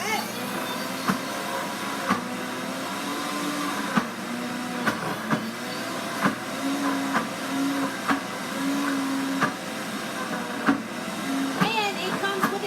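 A peanut butter grinder whirs steadily, grinding peanuts for homemade honey peanut butter with a loud continuous motor drone and periodic clicks and knocks as a tamper pushes them down.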